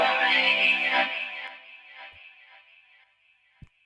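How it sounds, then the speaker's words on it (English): Software vocoder carrying a low natural-voice chorus harmony, a bright buzzy synthetic vocal tone that swells and then fades away, ending with a couple of faint clicks. "the vocoder part just repeats without me"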